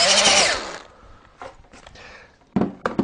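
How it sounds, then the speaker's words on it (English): A power drill whirs loudly for under a second while drilling a pilot hole into wood, then short bursts of drilling and scraping follow, with a couple of sharper mechanical spurts near the end. "you drill down a little bit into that pilot hole"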